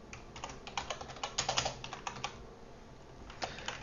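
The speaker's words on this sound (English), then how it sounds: "let's go ahead and type all this out." Steady, close typing on a computer keyboard as code is entered, with rapid, clustered key clicks that slow briefly near the middle and then resume, with no talking.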